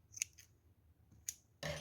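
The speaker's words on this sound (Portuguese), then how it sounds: "eu vou cortar esse fio" Scissors snip through crochet yarn in a few crisp, close cuts, two quick sharp snips separated by a short pause before a louder rustle at the end.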